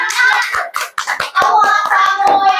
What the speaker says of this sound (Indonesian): Kasih tepuk tangan dulu untuk kelompok 2.